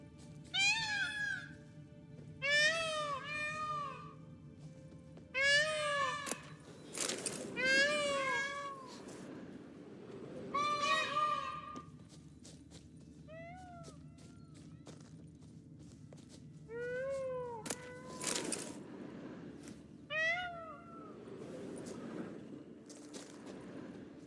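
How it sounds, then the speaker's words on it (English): Repeated plaintive cat mews from the Witcher 3 video game, a dozen or so separate calls spaced irregularly, with occasional soft background noise bursts and low ambient game sound beneath. "It sounds like a cat mewing."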